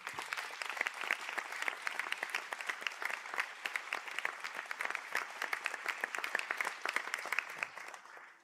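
An audience at a Sligo conferring ceremony applauds Bachelor of Science graduates in Biopharmaceutical Science, with sustained dense clapping from a large crowd, even and continuous throughout, fading slightly at the close.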